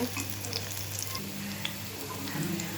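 Spiny gourd pieces frying in a pan, giving a steady, soft sizzle that stays fairly quiet and even throughout.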